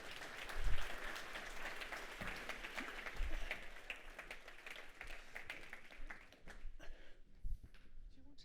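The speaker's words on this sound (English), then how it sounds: "please give our panel a round of applause" Audience applause for a panel at the opening keynote of an energy crisis conference, a steady patter of many hands that swells briefly and thins out, with voices murmuring underneath.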